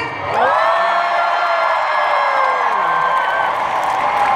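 A large convention audience shouts and cheers on cue, a sudden loud sustained roar of many voices with high whoops, holding steady and slowly tapering off.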